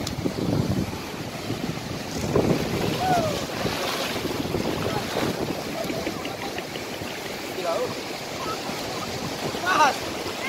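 Wind buffets the microphone while waves surge and wash at the beach of Pasar Bawah Manna in South Bengkulu, with faint voices now and then.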